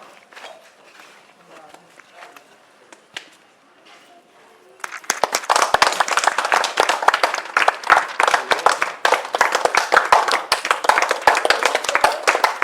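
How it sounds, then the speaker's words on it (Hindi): Children clap together at a 15 August Independence Day flag-hoisting ceremony at a school. Voices come first, then dense, loud, sustained applause breaks out about halfway through and continues to the end. "जब झंडारोहण होगा सभी बच्चों ताली बजाएंगे"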